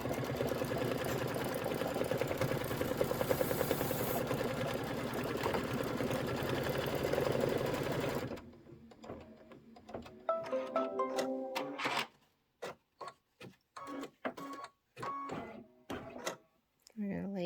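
An embroidery machine stitches out a porch placement for a red house design, running steadily and loudly for about eight seconds before stopping, followed by quieter clicks and handling noises.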